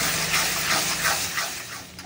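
Water is poured into a cooking pot of spiced fish soup, giving a steady, close hissing gush with a slight steamy sizzle throughout.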